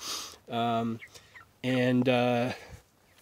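Pastured broiler chickens in a wire-covered outdoor pen, two loud close bursts of clucking and squawking separated by a short pause.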